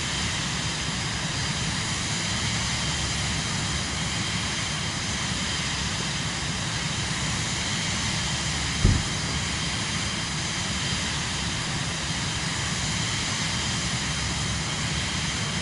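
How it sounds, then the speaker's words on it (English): Steady, loud jet engine roar of a Vision Jet G2 in Microsoft Flight Simulator 2024, a continuous broadband whine and rumble throughout, with a single brief click partway through and no talking. "I like listening to the engine sounds."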